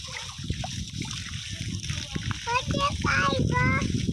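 Water poured and splashed in a home bathroom, sloshing and trickling close by while a child and an adult talk over it, the splashing growing fuller toward the end.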